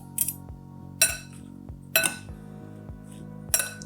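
Light clinks and taps of utensils against a bowl as food is tossed with olive oil and red wine vinegar, four short bursts spaced about a second apart, close and fairly quiet.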